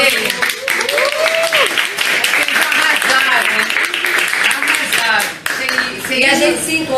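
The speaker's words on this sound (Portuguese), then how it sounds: "Vamos aplaudir o LSD." Audience applause at a panel discussion on censorship in art, dense and steady across the whole stretch, with voices and crowd noise mixed in throughout.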